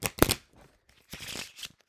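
Playing cards shuffled by hand during a live trading session, giving two short bursts of riffling clatter, close and fairly quiet, with a brief pause between them.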